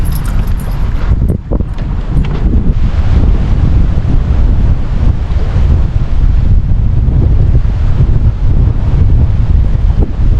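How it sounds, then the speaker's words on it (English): Strong, gusty wind buffets the microphone while bass fishing on open water, a loud, continuous low roar with rushing turbulence throughout and no talk. "Boy, this wind is brutal."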